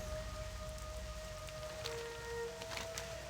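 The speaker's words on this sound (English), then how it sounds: "it's a rainy day in Aberdeen" Steady rain falls in World of Warcraft Classic at Aberdeen, a continuous hiss of drops with faint tonal game ambience running beneath it and no voices.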